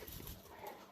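Several puppies yip and whimper close by on a farm with geese, their dog sounds continuous and fairly faint through the brief moment, with a little speech-like noise mixed in.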